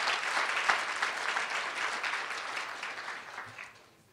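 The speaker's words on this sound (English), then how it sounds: "You can clap for that." Dinner audience at a commemorative community celebration applauding the speakers, a soft, steady wash of clapping from a room of people that fades out toward the end.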